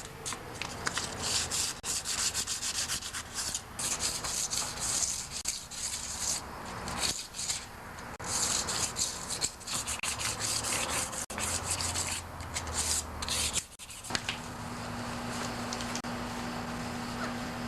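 A John Deere 316 tractor rim is scuffed by hand with light sandpaper before repainting: continuous, close rasping and rubbing strokes that run steadily throughout with brief pauses and no talk.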